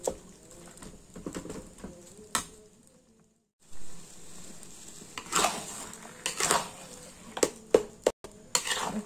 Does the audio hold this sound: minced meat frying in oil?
yes